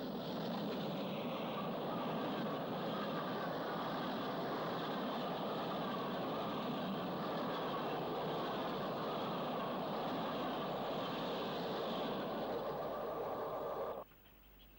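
Steam locomotive 6201 works a special train up a 1-in-143 gradient past the former Trehowell Halt, a continuous heavy rumble and roar that holds loud for about fourteen seconds before cutting off abruptly.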